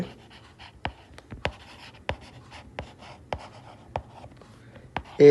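Pen or pencil writing by hand on paper while working a class 9 maths problem, quiet scratchy strokes and sharp taps in an irregular rhythm, close and faint, ending with a brief louder noise.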